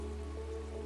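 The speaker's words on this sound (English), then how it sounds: "the kind of torrential downpour that blinded cameras and muffled sound" Torrential rain storm, a steady faint wash of rainfall on surfaces under a constant low hum, even and unbroken for the whole short stretch.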